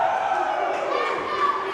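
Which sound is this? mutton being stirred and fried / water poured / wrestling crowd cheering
wrestling crowd cheering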